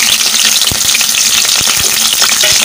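Chopped shallots sizzle steadily in hot oil, with constant hissing and scattered sharp crackles close by.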